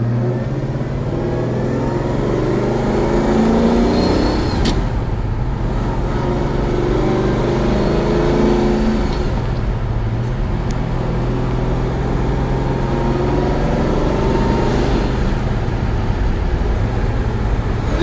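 A 1970 Pontiac GTO Judge with Ram Air III and a 4-speed, its V8 rumbling loudly from inside while driving, low steady engine drone with a few gear shifts and rises in revs, no talking.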